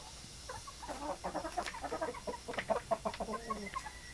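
Chickens, including extra roosters, cluck in quick, uneven bursts, several birds close by and fairly quiet, with no voices.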